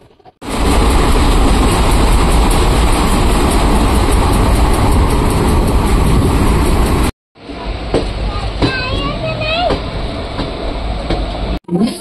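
A train runs on rails near Ajmer, Rajasthan, with a loud, steady rumble and rhythmic clatter, a brief cut, then a quieter stretch of rolling noise with faint squeals.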